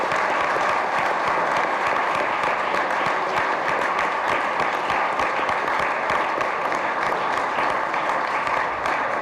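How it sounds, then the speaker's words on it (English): Dense, sustained applause from an audience of members at a YMCA youth and government joint session honoring a guest speaker, loud and continuous throughout with many hands clapping at once. "One more round of applause for our good guest speaker."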